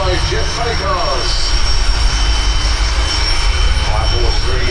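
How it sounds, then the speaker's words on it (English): Jet funny cars race side by side down a drag strip at Santa Pod, producing a loud, steady roar of jet engines that fills the whole stretch with sustained power and no breaks. A voice speaks over the noise. "Side-by-side jet funny cars."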